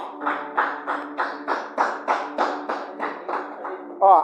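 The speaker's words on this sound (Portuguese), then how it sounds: "Palmas para Jesus, irmão." A church congregation claps in time for Jesus, a strong, regular beat of sharp hand claps about three per second, with voices blended into each beat.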